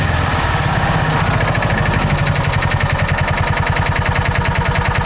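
A John Deere Gator 4x2 utility vehicle engine, with hard starting, idle and clutch trouble, runs loud and close with a steady rapid pulsing throb that rises slightly in pace as it revs.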